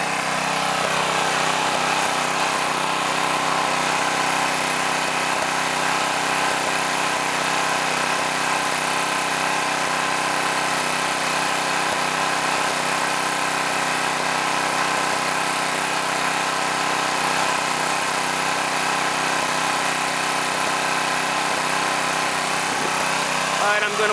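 A Predator 212cc Honda-clone small engine running at its maximum factory-set RPM, a loud, steady, unbroken buzzing drone holding constant throughout.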